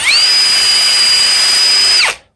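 Power drill running during a tool restoration, a loud steady high-pitched motor whine that holds for about two seconds and then winds down abruptly.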